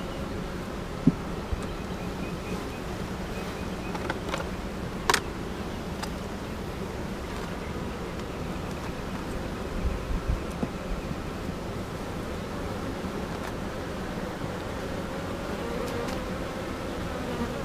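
Honeybees buzz steadily in an open hive during an inspection of nectar and pollen stores and capped brood, a dense continuous hum with a few brief closer passes, no talk.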